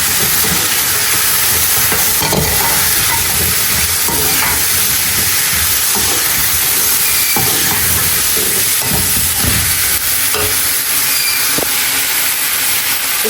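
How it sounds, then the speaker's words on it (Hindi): Loud, steady hiss of potatoes frying in a hot pan, with occasional scraping and clattering as they are stirred, close and continuous. "अच्छा जी, अब मैं इसमें शामिल करूँगी आलू"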